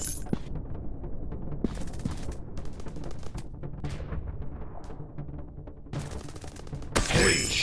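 A dense barrage of gunfire in a first-person shooter video game, with rapid automatic bursts and sharp single shots packed together across the whole stretch, loud and close, ending in a brighter crash.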